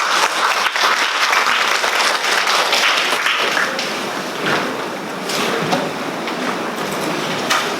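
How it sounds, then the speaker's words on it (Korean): A full audience claps steadily to welcome a Seoul National University public administration professor at a Jeonju research presentation on integrated elderly medical and care support; dense, loud applause fills the room, thinning slightly midway, with no talk. "큰 박수로 맞이해 주시기 바랍니다."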